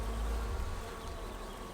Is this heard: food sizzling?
no